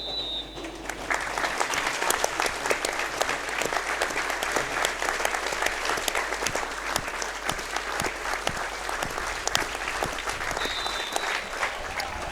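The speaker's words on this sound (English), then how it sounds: "Referee Jordan Curran brings the minute's applause to an end" A football crowd at Stranraer's ground gives a minute's applause before the match, sustained dense clapping from many spectators across the stands, loud and continuous with a low background hum.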